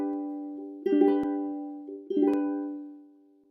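Two strummed ukulele chords accompanying the Radhe Govindha mantra, each a soft, close strum that rings out and slowly decays, the second following about a second after the first, with no voices.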